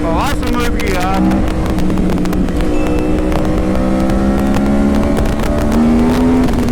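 A Yamaha R1 superbike fitted with a TOCE full exhaust system revs loud and close, its engine note climbing steadily with rising harmonic tones, and a voice talks over it.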